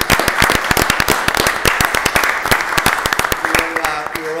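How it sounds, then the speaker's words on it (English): Audience applause fills a finance committee meeting, many hands clapping in a dense, lively burst that thins into scattered claps as it fades. "We're going to give you a round of applause."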